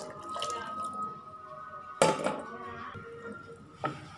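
Homemade rasam with salt, tamarind juice and ground cumin-pepper powder boiling in a pot on the stove, a soft steady bubbling with occasional louder clatters of the pot or utensil, close and fairly quiet.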